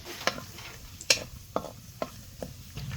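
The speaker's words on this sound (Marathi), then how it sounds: "लापशी भाजायच्या अगोदर थोडं काजू भाजून घ्यायचं तुपात" Cashews roasting in ghee, with a soft sizzle in the background and a series of sharp clinks and scrapes as they are stirred, about six distinct strokes at an uneven rhythm.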